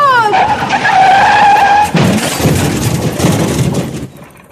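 A bicycle skids and crashes into the side of a lorry in a dramatized sound effect: a long rising tire screech, then a sudden loud crunching impact that rattles on briefly before cutting to quiet.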